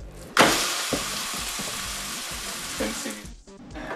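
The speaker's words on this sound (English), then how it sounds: "you're going to want to place your giant burger on the frying pan." A giant burger patty sizzles loudly in a hot frying pan, a steady crackling hiss that starts abruptly and continues throughout with occasional clatters.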